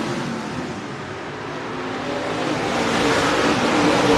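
Race cars run nose to tail around an oval track in traffic, a broad, washy engine roar that swells gradually louder as the pack approaches, with no voices over it.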